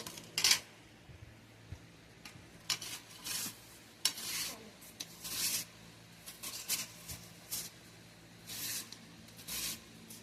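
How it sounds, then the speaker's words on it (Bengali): Peeled, washed potatoes are rubbed against a hand grater into long thin strips, making repeated short scraping rasps in irregular bursts with brief pauses between strokes. No one speaks. "এবারে আমি এই গ্রেটারটা দিয়ে ভালো করে ঘষে নেব"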